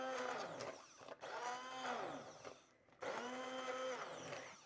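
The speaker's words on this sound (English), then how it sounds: "I'm going to just emulsify this, so it's going to make a noise." Immersion blender pureeing red pepper soup in a pot whirs loudly and continuously, its pitch rising and falling as it churns, briefly cutting out twice before starting again, close up.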